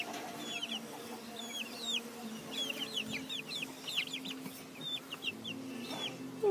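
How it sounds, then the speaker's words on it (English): Two-week-old baby chickens cheep close by, a busy overlapping stream of high, rising peeps in quick bursts over a low hum of room noise. "Show my baby chickens."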